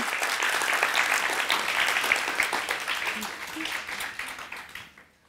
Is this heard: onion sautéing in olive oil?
no